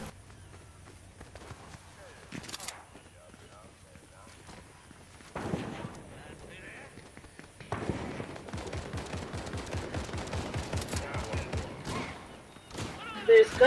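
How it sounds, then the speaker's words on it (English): Bursts of rapid Fortnite gunfire crackle in the background, growing denser and more continuous toward the end, with footsteps and game effects mixed in. "There's gunshots all this way."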